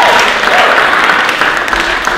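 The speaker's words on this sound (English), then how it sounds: "can you guys give a round of applause to them?" Audience at a stand-up comedy show claps steadily, a dense broadband wash of applause from a nearby crowd that holds for a couple of seconds without any talk.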